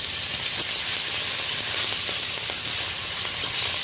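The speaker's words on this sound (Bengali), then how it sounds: "পিসগুলো একেবারে হালকা করে ভাজবো, তুলে দেবো, নামিয়ে নেব" Pieces of hilsa fish fry lightly in hot oil, giving a steady, dense sizzle that stays loud and close throughout with no talking.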